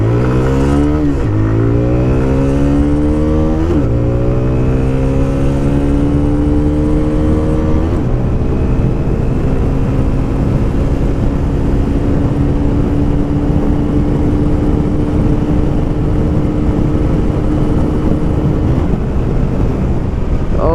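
A TVS Raider 125 motorcycle accelerates hard from a standstill in a 0 to 80 test run. Its loud engine note climbs repeatedly through several gear shifts, with steady wind rush and no talking.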